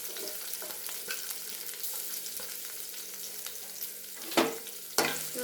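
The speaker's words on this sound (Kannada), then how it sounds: "ಮೆಣಸಿನ್ಕಾಯಿ ಮತ್ತು ಈ ಉಳ್ಳಾಗಡ್ಡಿ ಏನಿದಾವಲ್ಲ ಇವೆಲ್ಲ ಸ್ವಲ್ಪ ಫ್ರೈ ಆಗಬೇಕು" Green chillies and chopped onion fry in oil for dal, giving a soft, steady crackle with a faint hum beneath and two louder stirring scrapes near the end.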